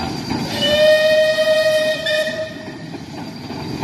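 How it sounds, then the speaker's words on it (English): Southern Railway Merchant Navy class steam locomotive 35028 Clan Line, a Bulleid Pacific, entering platform 1 at a Devon station: a loud, sustained whistle for about two seconds over a rolling rumble, which then eases off as the train draws in. "Here we go, entering platform 1. Southern Railways Merchant Navy class"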